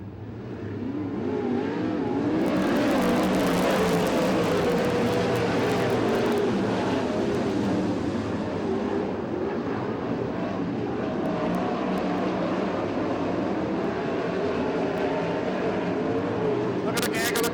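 USAC/CRA sprint cars race in a pack at Tulare, California, a loud continuous engine roar that swells and holds as several cars run side by side, with a race announcer talking over it.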